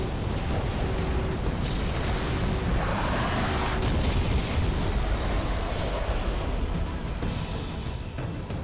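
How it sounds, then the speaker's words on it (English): A massive explosion in Halo 3 rolls on as a dense, continuous low rumble with roaring broadband debris, sustained and loud for several seconds without any voices. "I saw that explosion from orbit"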